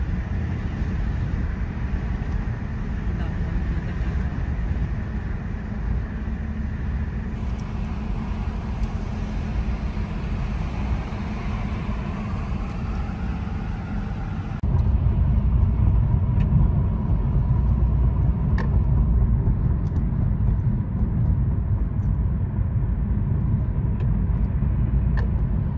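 A car being driven on the road gives a steady, loud engine and road rumble that continues throughout, growing a bit heavier about halfway through, with no talk over it.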